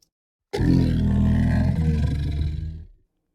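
A human voice imitates a deep, throaty roar as sound design for a Mosasaurus, one loud sustained growl of about two and a half seconds that then fades out.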